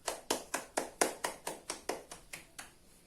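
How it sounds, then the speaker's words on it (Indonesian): A classroom of students claps in unison, about ten crisp, evenly spaced claps in a steady rhythm at moderate distance, slightly faster toward the end and then stopping. "Beri tepuk tangan buat kalian semua."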